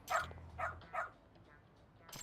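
Dog barking in the video game Lost Judgment: three short barks or yips in quick succession near the start, then a quieter stretch with faint background sound and a brief noisy burst at the end.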